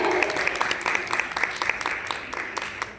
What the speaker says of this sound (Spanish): Un aplauso para la